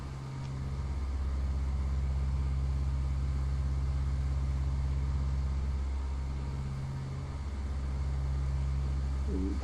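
A Cessna 172 piston engine running in flight, heard from inside the cabin as a steady, loud, low droning hum that continues throughout.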